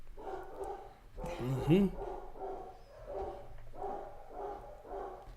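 Dogs bark in a room at a chess tournament, a run of repeated close woofs with a brief yip in the middle, under low background murmur and a short spoken acknowledgment.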